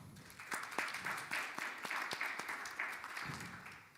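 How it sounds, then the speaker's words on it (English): Applause breaks out for a speaker at a business conference, many hands clapping in a steady, moderately distant patter that carries on throughout. "Please give a round of applause."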